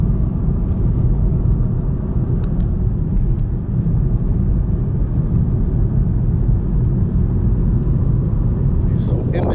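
Steady, loud low road rumble from inside a car driving through the hills near Bisbee, Arizona, continuous throughout with a few faint higher clicks and rattles over the drone.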